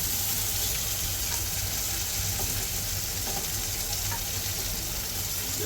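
Steady, loud, continuous sizzling of Maharashtrian-style fish frying crisp in a hot pan after being flipped, a dense hiss with faint crackles and no talk.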